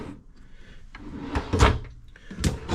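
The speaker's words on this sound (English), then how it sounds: "Soft close storage doors here." Soft-close storage cabinet doors inside a Forest River RV at a Florida RV show, giving a few soft thuds and clicks as they shut, close by with light background noise.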